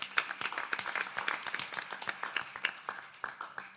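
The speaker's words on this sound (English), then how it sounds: "Give them a round of applause" Audience clapping at a temple anniversary gathering during a Ramayan Yagna at Mississauga's Ram Mandir, a modest round of irregular handclaps heard from a moderate distance, fading toward the end.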